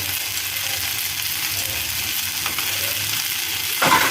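Chana dal and bottle gourd being mixed in a pan with salt and turmeric for lau dhokka, giving a steady low scraping and faint sizzle throughout, with a brief louder scrape near the end.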